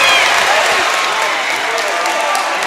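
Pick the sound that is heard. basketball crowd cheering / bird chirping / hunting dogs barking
basketball crowd cheering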